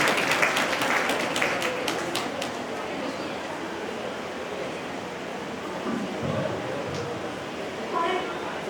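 Audience at a college speech event on the Indian democratic system breaking into loud, dense applause that peaks early and then settles into a steady wash of clapping.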